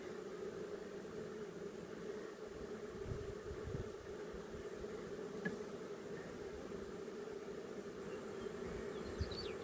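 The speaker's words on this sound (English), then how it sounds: "A bee stung me right in the palm." Bees buzz in a low, continuous drone that is faint and steady throughout, heard outdoors around a beekeeper with no talking.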